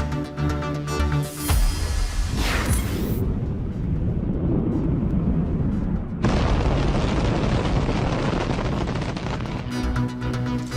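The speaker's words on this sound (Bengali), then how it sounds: "শিক্ষক নিবন্ধনে বঞ্চিতদের ওপর জলকামান, সাউন্ড গ্রেনেড।" Sound grenades go off at a protest against teacher-registration candidates, where water cannons are also used, giving loud booming blasts with sustained roaring noise and crowd commotion.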